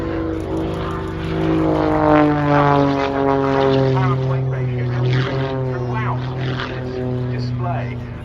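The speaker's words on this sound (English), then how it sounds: "Another hovering aircraft today, but I think substantially less expensive than the previous." A hovering aircraft at an airshow display drones with a steady propeller-like tone and shifting harmonics, fairly close, while a commentator talks over it throughout.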